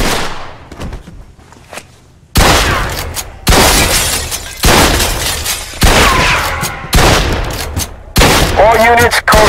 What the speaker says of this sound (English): Some nut job here shooting.